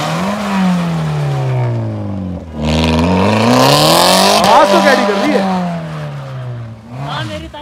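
A Maruti Swift drifts with its engine revving hard, rising and falling pitch sweeps and a tire squeal in the middle, loud and close, while people talk over it.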